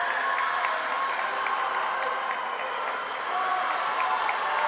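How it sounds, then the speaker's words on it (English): A crowd on its feet cheers and claps through a swimming relay final at a conference championship pool, a steady roar of voices and applause filling the hall with no break. "Everybody's on their feet making noise, whoever's left over here in Rutgers"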